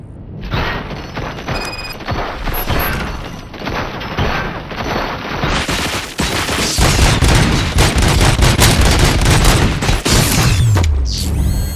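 Heavy gunfire in Robocop Rogue City: dense, rapid volleys of loud shots with booming impacts and mechanical clatter, building to a continuous roaring barrage in the second half before cutting off abruptly.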